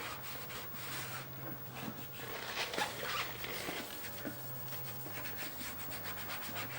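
A microfiber cloth rubs excess wax off plastic parts in a steady, faint scrubbing that runs the whole time over a low background hum.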